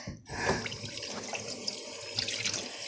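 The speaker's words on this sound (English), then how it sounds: "Maybe wash up my hands." Water runs steadily from a sink tap while hands are washed, a close, continuous splashing stream with small shifts in flow.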